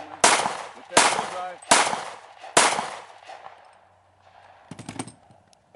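Marlin rifle fired outdoors, four loud sharp shots spaced about a second apart, each with a short echoing tail, followed by faint rustling and clatter.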